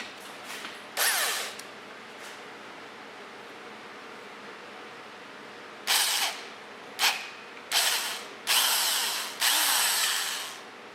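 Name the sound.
power drill drilling hole for Helicoil thread insert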